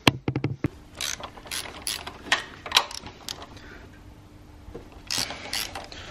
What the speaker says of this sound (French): maintenant on va sortir ces deux vis là. Donc là pareil, ça va être avec la douille de 17 longues.